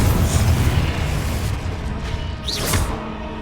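A Confringo blasting spell explodes in a Hogwarts video game, a dense, loud booming burst that rolls on for the whole stretch, with a brighter whooshing flare near the end and no talking.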